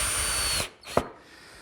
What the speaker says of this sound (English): Now I'll cut the other pieces.